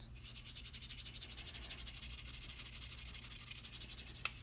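Rust being rubbed off a blued steel bayonet with steady back-and-forth strokes, a faint, even rasping rhythm that continues throughout, ending with one sharp tap near the close.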